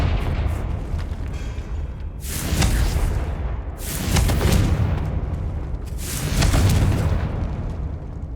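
Three heavy Confringo blasting-spell explosions from the video game Hogwarts Legacy, each a loud booming burst with a rumbling tail, spaced about two seconds apart in a catacomb.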